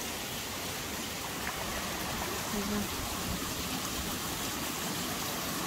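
Waterfalls pour through Goynuk Canyon near Kemer, Turkey, as a steady, dense rushing of water that fills the whole clip evenly, close and continuous, with no distinct breaks or voices.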